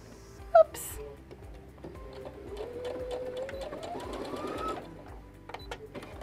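A sewing machine stitches a fabric border onto a kitchen towel, its needle clattering in a fast, even rhythm close by, rising slightly in pitch as it speeds up, after a brief click at the start.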